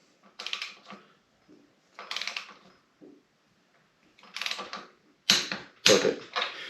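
A torque wrench clicks while engine bolts are torqued on a 1991 Harley FXRS build, with small clusters of close mechanical clicks separated by quiet gaps and two sharper, louder snaps at the end.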